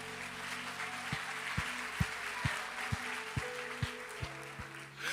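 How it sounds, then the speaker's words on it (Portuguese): A church congregation claps in a slow, even rhythm during a sermon. The beats sound faint and spaced against a steady background hum. "Pode aplaudir Jesus"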